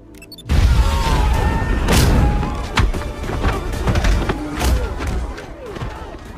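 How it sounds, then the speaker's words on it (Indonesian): A bomb explodes in an action film with a sudden heavy boom, followed by rumbling debris, crashes and scattered thuds and impacts that keep rolling for several seconds, loud and close. "Adam meledakkan bom yang sebelumnya ia pasang hingga terjadi ledakan."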